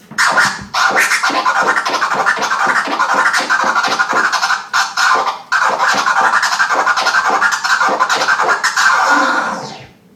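Fast DJ flare scratching, loud and close, with rapid stuttering cuts on the record in long continuous runs, brief pauses, then a fading final scratch.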